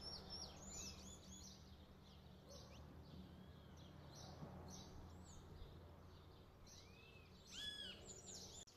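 Small birds chirp and tweet in scattered, faint calls outdoors near a spot where cake has been put out for them to eat, over a soft steady background hum.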